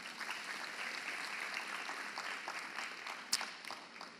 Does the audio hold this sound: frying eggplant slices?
no